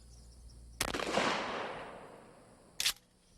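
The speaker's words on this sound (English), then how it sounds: "We try it first with number 9 birdshot." A shotgun fires number 9 birdshot at a mannequin wearing soft body armor, giving one sharp blast with a decaying rumble, followed by a brief second metallic click about two seconds later.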